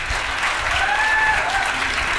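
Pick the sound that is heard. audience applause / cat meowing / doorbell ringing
audience applause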